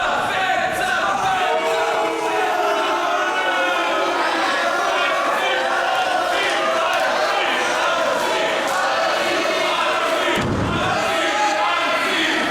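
A dense wrestling crowd roars and chants nonstop before a GWF World Championship match between Matt Riddle and Pascal Spalter in Berlin, loud and constant, with a brief dip and a few thuds near the end.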